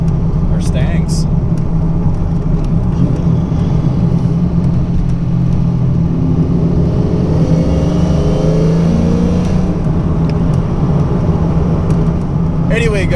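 A 1992 Ford Mustang 5.0 LX Fox body notchback drives with a steady, loud engine and road rumble that holds throughout, with a faint voice underneath.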